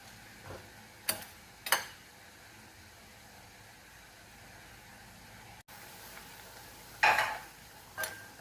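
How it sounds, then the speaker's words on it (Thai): Rice noodles are stir-fried with seasoning sauce in a pan for Thai pad kuay teow, heard as a few sharp, scattered scrapes and stirs over a quiet, faintly sizzling background. "ใส่เส้นแล้วผัด ผัดจนให้เส้นนิ่มนะคะ ผัดไปเรื่อย ๆ นะคะ"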